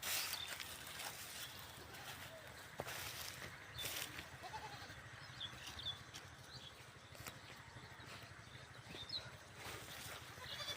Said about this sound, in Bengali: এই যে ছাগলের ছানা দুটো খুব সুন্দর দেখতে